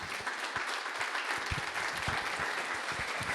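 A church congregation claps steadily and enthusiastically, a dense, even wash of applause that carries on throughout.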